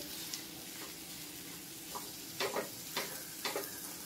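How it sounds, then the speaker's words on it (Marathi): Fasting halwa stirred with melting sugar in a pan over a low flame, a quiet sizzle under intermittent scraping strokes of the spoon, a few in quick clusters, close and alone. "साखर मेल्ट होणार, त्याच्यामुळे आपल्याला हे सतत ढवळत राहावं लागणार आहे"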